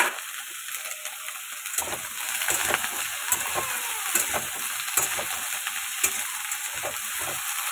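Vegetables fry in a pan in a home kitchen, a steady hiss of sizzling oil broken by stirring scrapes and clatters, with no talk.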